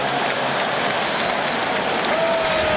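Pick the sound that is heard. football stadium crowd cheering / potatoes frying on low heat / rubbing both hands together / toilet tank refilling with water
football stadium crowd cheering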